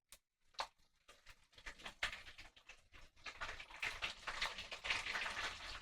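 Curry leaves hitting hot oil in a clay pot over a medium flame, a dense crackling sizzle that begins with a few sharp pops and swells into a steady, close frying hiss.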